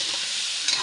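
Potatoes hiss in a pan of pork afritada, a brief steady sizzle with a slight flare near the end.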